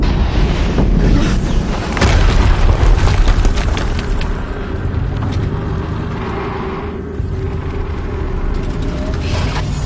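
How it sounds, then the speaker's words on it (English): A heavy explosion in Horizon Zero Dawn produces a loud, sustained rumbling roar that fills the whole stretch, with dense low boom and crackling debris and no clear pauses. "Another explosion."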